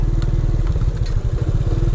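A motorcycle engine rumbles steadily up close on a mountain trip in rural Capiz, Philippines, with a low, pulsing idle throughout, joined by light clattering.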